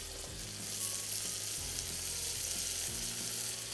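Chopped vegetables fry with onion in a hot pan, a steady close sizzle running throughout with low stirring scrapes and no voices.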